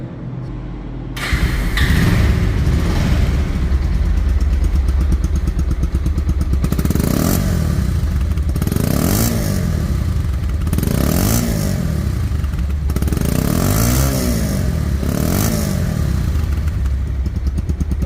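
A Bajaj Pulsar double-disc ABS motorcycle of 2023–24 model year starts up and runs loud and close, its engine revving in a series of regular swells over a steady idle rumble, with no talk.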